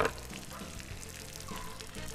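Chunks of meat with tail fat, onions and garlic frying in a saç pan for kavurma, a steady sizzle with some stirring and a brief scrape, close and moderately loud, no talk.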